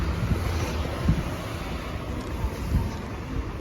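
Strong wind blows outdoors in open, rainy Tokyo, buffeting the microphone with a continuous low rumble and occasional heavier gusts, with no voices.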